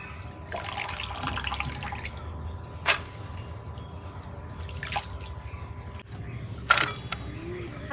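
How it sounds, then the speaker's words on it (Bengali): Chopped potatoes being washed in water, with bursts of splashing and trickling interrupted by pauses and a few sharp clinks and knocks, close and fairly loud. "আলু ভুজরি করা হয়েছে, এখন আমি ধুয়ে নিতেছি।"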